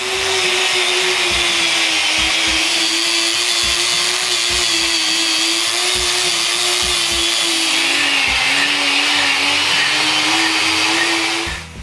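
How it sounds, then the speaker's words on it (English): An angle grinder fitted with a wire brush strips leftover varnish from a concrete shop floor, grinding steadily and loudly with a constant whine and occasional low scraping knocks throughout. "I remove the rest with a brush on a grinder"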